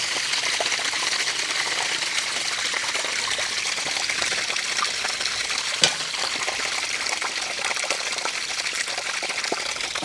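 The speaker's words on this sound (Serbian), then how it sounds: "e sad ja ovo otvorim, pustim, izađe voda da ne stoji u ovome" Water gushes steadily out of an opened valve, draining a tank or pipe so it won't rust; a loud, continuous rushing splash with no talk.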